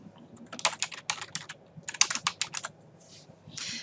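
Bursts of typing on a computer keyboard while entering a field caption in a Microsoft Access table, crisp close key clicks in quick irregular clusters with short pauses between them, no voice.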